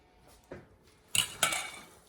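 Tongs clatter against a bowl while spicy coleslaw is tossed, giving a soft tap and then two sharper clinks close by, with no talking.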